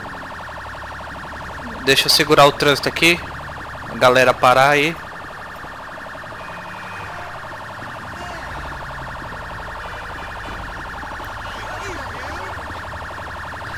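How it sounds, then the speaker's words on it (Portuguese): A steady electronic police car siren in GTA V wails throughout, with someone speaking briefly over it near the start. "Liga a sirene aqui pra ninguém me passar."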